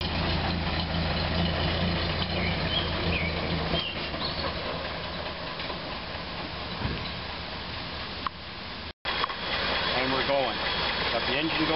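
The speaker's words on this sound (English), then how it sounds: "We're going to start the car." A 1931 Ford Model A engine idles steadily after starting, a continuous low rumble running throughout at close range, with a brief dropout near the end and people talking over it.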